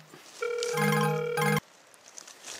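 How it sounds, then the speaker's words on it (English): A phone ringtone for an incoming call sounds in a short, loud melodic burst of about a second outdoors on Vancouver Island, then cuts off abruptly, followed by faint rustling. "just a sec guys, I just got a phone call."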